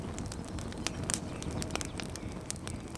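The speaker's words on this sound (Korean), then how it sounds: "모닥불도 피웠겠다" A campfire at a Russian dacha in Nizhny Novgorod, burning with sparse sharp crackles and pops over a soft low rumble, close and without talking.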